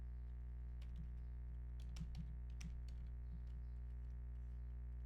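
Scattered keystrokes on a malfunctioning computer keyboard while coding, sharp isolated clicks in irregular bursts over a steady low electrical hum, fairly faint and with no voices.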